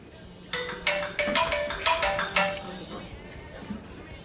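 Telephone ringing for a live on-air call during a Turkish television broadcast, a run of repeated bright electronic ring tones over about two seconds, fairly close and clear, with faint talk in the background.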